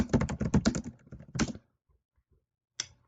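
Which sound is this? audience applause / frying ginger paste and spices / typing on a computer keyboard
typing on a computer keyboard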